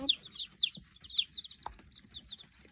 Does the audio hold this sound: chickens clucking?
yes